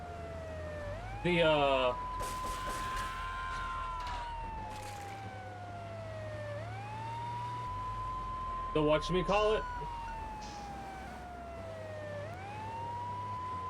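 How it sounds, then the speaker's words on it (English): Police car sirens in the video game Grand Theft Auto 3, a loud wailing siren rising and falling in long repeated sweeps, with someone talking over it and bursts of other game sounds. "The sirens, there we go,"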